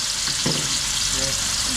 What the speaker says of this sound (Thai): ตั้งกระทะใส่น้ำมัน ทำในหม้อ ใส่น้ำมัน แล้วก็เครื่องที่เราโขลกไว้นะครับใส่ลงไปเลย นี่เราจะผัดก่อน